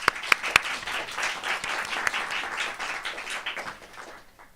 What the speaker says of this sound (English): Let's give Joseph a round of applause.